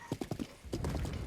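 Horse hooves clip-clopping in Zelda: Breath of the Wild, a quick run of four sharp hoofbeats followed by a louder, denser burst of galloping and a whinny-like snort, close and clear with no talk.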